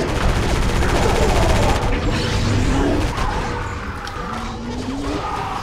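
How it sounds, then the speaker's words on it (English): Sustained automatic gunfire from the PS2 game Area 51 roars loud and dense in a rapid, unbroken stream, layered with mechanical clatter and game effects. "Can't see a bloody thing when I'm shooting this gun, but man, it does really do the business."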